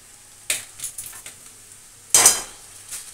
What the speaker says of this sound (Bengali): এখন দিয়ে দিচ্ছি চাউমিনগুলো।